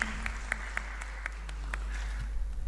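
Audience applause at a sixth-anniversary jubilee event, scattered hand claps with distinct sharp hits over a steady low hum, fairly faint and thin as if from a smaller crowd, with no talking.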